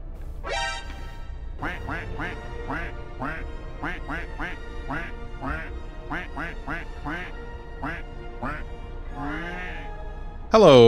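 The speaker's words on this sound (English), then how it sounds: "That's good quacking." A duck quacks loudly and repeatedly in quick, uneven bursts for several seconds, close and clear, with a louder sound cutting in at the very end.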